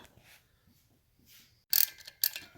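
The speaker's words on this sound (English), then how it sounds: "Working on removing the last head bolt here, the one in the middle." A wrench working loose the middle head bolt on a 1972 Norton Commando engine gives two sharp metallic ratcheting bursts near the end after quiet, close up with no talking.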